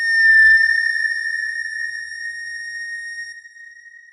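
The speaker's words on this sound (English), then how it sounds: "That was the sound of 2-hydroxybenzaldehyde." Sonified soundscape of the molecule 2-hydroxybenzaldehyde: a low thump at the onset, then several pure, steady sine-like tones held together and slowly fading over about four seconds.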